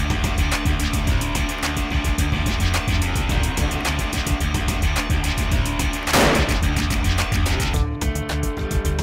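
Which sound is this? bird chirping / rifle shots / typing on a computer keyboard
rifle shots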